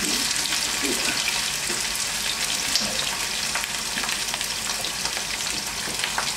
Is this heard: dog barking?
no